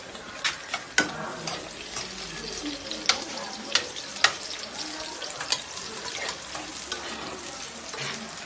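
Food frying in oil until golden brown and crispy, a continuous soft sizzle broken by sharp clinks and scrapes of stirring, fairly quiet with no talk.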